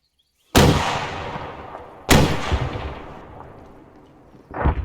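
Rocket launchers fire during military detachment training, giving two loud booming blasts a second and a half apart, each trailing a long rumbling decay, then the onset of a third at the end.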